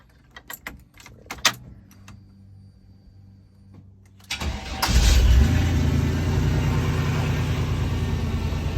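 Light clicks and a jingle of keys come first, then a Jeep Wrangler YJ with a swapped 4.3 Vortec V6 and 700R4 transmission cranks, catches with a burst, and settles into a steady, close idle.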